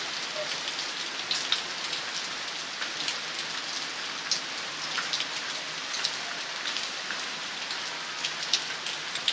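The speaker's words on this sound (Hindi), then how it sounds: "फिलहाल बारिश का मजा लेती हूँ" Steady rain pattering on a surface, an even hiss with scattered drip sounds, continuous and fairly close.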